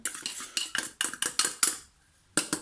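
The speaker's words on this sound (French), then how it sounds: "je vais continuer de mélanger" A utensil scrapes and clacks against a bowl while mixing mashed potato and tuna, about ten quick rhythmic strokes close up, then a short pause before one more stroke.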